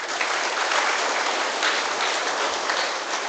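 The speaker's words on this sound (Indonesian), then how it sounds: "Kita tepuk tangan untuk Kombas." A congregation at a Sunday Lenten Mass gives dense, continuous applause for the Santo Faustinus church choir, a full, even burst of clapping that fills the whole stretch at a steady level.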